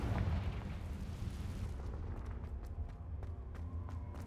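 A Confringo fire spell in Hogwarts Legacy bursts as a deep, rumbling explosion, loud at first and then decaying into a low roar, with a few faint sharp clicks trailing after.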